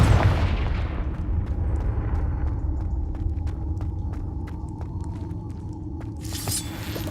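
Confringo blasting spell in Hogwarts Legacy goes off as a loud explosion with heavy low rumble, then a decaying crackle with scattered sharp debris clicks and a bright burst near the end.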